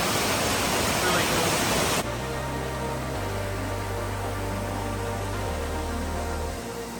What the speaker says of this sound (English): And just another waterfall.